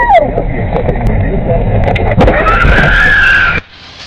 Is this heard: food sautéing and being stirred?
no